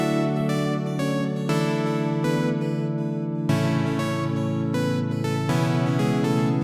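A chord progression plays on the Drift synth in Ableton Live, with rich sustained pad-like chords changing about every second or two. A sharper, louder chord comes in midway, and the synth is heard alone at steady volume.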